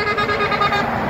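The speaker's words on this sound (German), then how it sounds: "hier kommt der DAF-LKW wieder mit ins Spiel" A DAF truck passing on the A5 motorway near Frankfurt, a steady loud rush of engine and tire noise with a faint tonal horn-like whine, brief and continuous.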